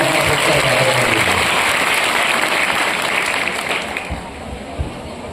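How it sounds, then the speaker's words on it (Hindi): Loud, close applause from a crowd at a school bicycle distribution event, dense clapping that fades out near the end as a few scattered voices remain. "एक बार जोरदार ताली बजा के आप"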